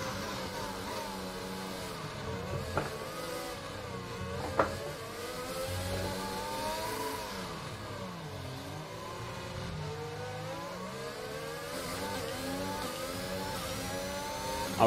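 A Formula 1 car engine in the racing game F1 2021 whines steadily, its pitch rising and falling through gear changes as it races alongside other cars, with no talk.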